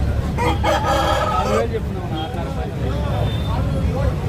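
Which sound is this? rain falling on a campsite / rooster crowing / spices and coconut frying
rooster crowing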